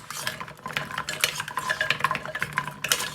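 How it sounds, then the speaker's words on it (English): A cooking spoon stirs food inside a slow cooker, coating it. The scraping and clinking come close and steady, with irregular knocks against the crock over a few seconds and no talking. "I'm going to take a cooking spoon and we're going to kind of stir them up a little bit"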